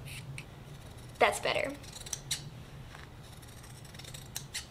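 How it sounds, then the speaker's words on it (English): Scissors snip through fabric while trimming a seam allowance on a 1900s-style chemise, a couple of crisp close cuts followed by lighter clicks, with a brief spoken remark in between. "And trim the seam allowance. Not with those scissors."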